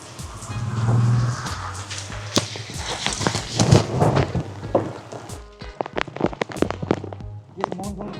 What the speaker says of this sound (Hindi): मानसून की बारिश बरसने लगी है